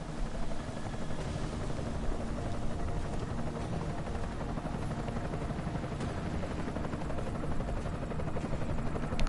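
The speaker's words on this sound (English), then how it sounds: "Enemy helo sighted." An enemy helicopter in the video game Deus Ex: Mankind Divided, a continuous loud rotor drone and engine whine held steady throughout, close and alone.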